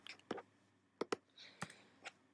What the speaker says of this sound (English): so you just click the text tool and type.